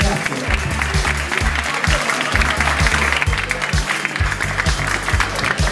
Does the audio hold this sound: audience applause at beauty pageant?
yes